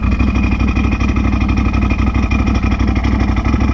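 A Can-Am Outlander XMR 850 ATV engine running steadily at a close, loud, even idle with a rough throbbing pulse and no change in revs, alone without talk.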